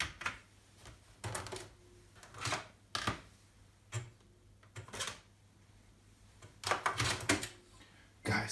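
Keys tapped on a restored Commodore Amiga 500 keyboard, a few close clicky presses and short bursts of clacking separated by pauses, fairly quiet and without talk.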